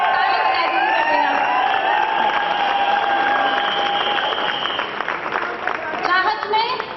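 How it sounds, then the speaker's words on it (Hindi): At a poetry recital during the Synergy event at NC College of Engineering, a crowd claps and cheers loudly throughout, with raised voices and whoops mixed into the applause. "ताली बजा दीजिए मेरा।"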